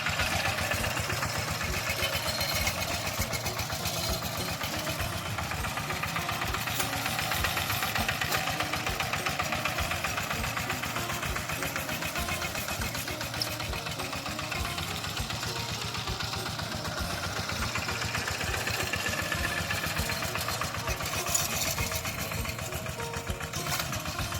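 A walking tractor's small engine idles continuously with a steady, rattling chug, close and unchanging.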